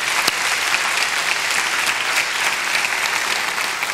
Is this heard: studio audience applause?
yes